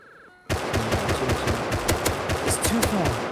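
A semi-automatic rifle fires in a rapid stream of sharp shots in the survival game Rust. The shots begin abruptly and continue for about three seconds, loud and close, with faint voices underneath.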